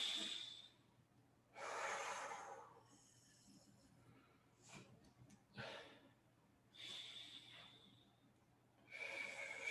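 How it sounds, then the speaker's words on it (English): Slow, deep breaths drawn in and pushed out during a seated wheelchair fitness class, each long airy inhale or exhale separated by quiet pauses, close and fairly soft. "nice deep breath in, nice deep breath out"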